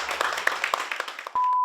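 An audience claps for Aunt Bridget at her Irish tea room in Ambridge, Pennsylvania: a short burst of scattered hand claps over faint voices that stops abruptly, followed by a steady tone.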